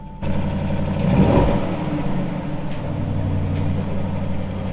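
The electric motor of an Audi A6 Avant e-tron whirs and hums steadily, rising briefly in a short rev against its soft limiter before settling back to an even drone.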